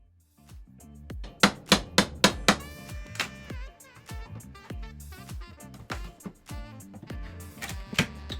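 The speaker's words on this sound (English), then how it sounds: "with just a few simple tools, just a hammer and a pry bar, I began removing all of the trim around the door" A hammer and pry bar knock loose and pull off wooden door trim, with a quick series of sharp, close strikes followed by creaks, scrapes and clatter of wood being levered free.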